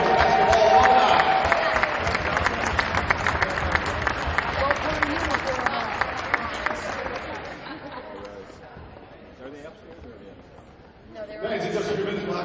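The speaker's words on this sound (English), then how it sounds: "please one more round of applause for our women's basketball alumni" A crowd in a college gym applauds and cheers for returning women's basketball alumni at an RPI home game against Skidmore. The noise is loud and dense, fades to a low murmur, then swells again near the end.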